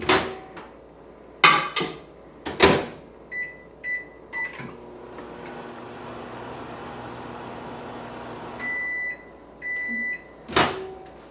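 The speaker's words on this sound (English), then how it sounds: "put it in the microwave for about half a minute to 45 seconds" A microwave oven hums steadily after door clunks and button beeps, then finishes with a series of beeps and the door opening.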